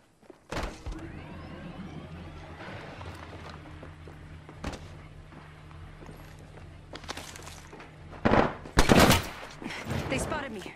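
Apex Legends gunfire: scattered sharp shots across a steady game soundscape, with a loud burst of rapid fire and impacts near the end.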